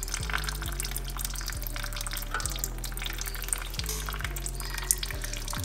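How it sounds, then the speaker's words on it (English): Brake fluid bleeding from a caliper on a BMW F30 fitted with a Brembo M Performance big brake kit, a steady fizzing, gurgling hiss of fluid and air bubbles, continuous and close, over a low mechanical hum. "So just continue bleeding until it runs clean. There's more air."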